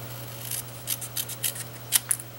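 Scissors trim a piece of cardstock with a series of crisp, close snips. Around eight quick cuts come in an uneven rhythm over a faint steady hum.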